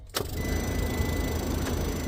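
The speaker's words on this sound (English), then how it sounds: "Let's see if the old box truck starts up in negative temperatures." An old box truck's engine cranks and catches in freezing sub-zero cold, a short starter burst followed by a steady rough idle running close by.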